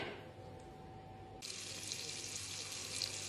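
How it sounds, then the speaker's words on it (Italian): Crumbled sausage with onion hits melted butter in a pot for a porcini mushroom and sausage risotto. A quiet kitchen background gives way midway to a sudden, steady, bright frying hiss that carries on to the end. "adesso aggiungiamo salsiccia sbriciolata e facciamo soffriggere"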